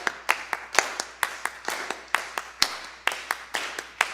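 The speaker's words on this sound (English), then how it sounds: "Everybody pick your favorite rhythm to clap" A church congregation claps along in a steady rhythm during a service, the sharp, fairly close claps landing roughly twice a second in an even pulse with no voices over them.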